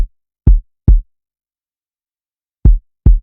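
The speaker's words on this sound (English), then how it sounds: "We can borrow a kick pattern from our piano where it sounds like this." Four deep, punchy kick drum hits in a syncopated pattern, two pairs separated by a long gap, loud and dry with nothing else playing.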